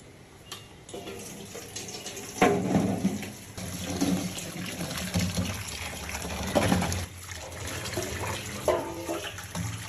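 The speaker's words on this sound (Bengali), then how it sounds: "এবার এগুলো আমি ধুয়ে নেবো" Cut spiny gourds (kakrol) are washed in water, with steady splashing and running water close by and a few louder sloshes as the pieces are handled.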